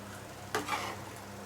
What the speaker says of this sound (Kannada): ಈಗ ಕುದಿ ಬಂದಿದೆ.